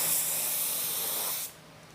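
A spray gun lays a base coat of paint onto car panels in a home garage, a loud close steady hiss that cuts off abruptly near the end, leaving quiet room tone.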